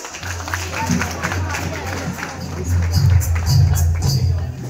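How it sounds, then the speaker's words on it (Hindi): Audience applause at an annual school function, a dense crowd clapping that swells toward the end, with babble and a low hum from the venue's sound system beneath it. "और जोरदार तालियां बजाएं।"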